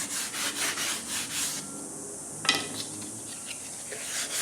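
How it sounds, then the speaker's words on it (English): Sanding block with 320 grit rubbed over a wooden model aileron at a workbench, a few close, rhythmic scraping strokes that stop partway, followed by a light tap. "Give that a little sanding with the, this is like a 320 grit block."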